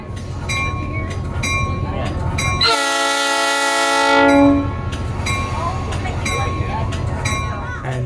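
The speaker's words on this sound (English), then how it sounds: "sit back, relax, and enjoy the train ride" A train ride with the rumble of rolling railcars and a long, loud horn blast in the middle, heard from on board; voices may be faintly present beneath the rail noise.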